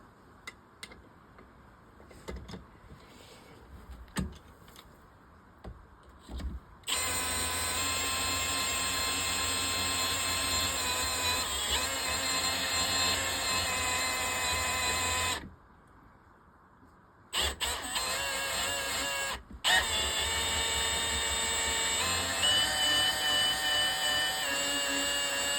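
A left-hand cut reamer grinds into a seized bolt, with a loud, steady, high-pitched mechanical whine from about seven seconds. It cuts out briefly around fifteen seconds, then resumes just as strong with a short interruption near twenty seconds.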